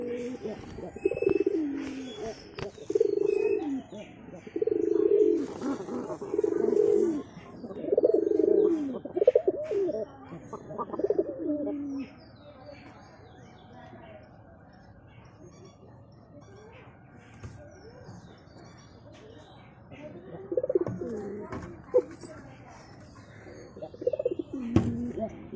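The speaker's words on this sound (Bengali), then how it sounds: "আমার এই খোপের সবার উপরে ঘষি দিচ্ছে পায়রা।" Pigeons cooing on top of a loft, with repeated low throaty coos in bursts at close range, then a quieter pause with faint background sounds before the cooing returns near the end.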